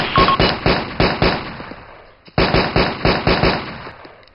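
Suppressive gunfire: loud, close bursts of rhythmic, rapid shots in two runs separated by a short pause.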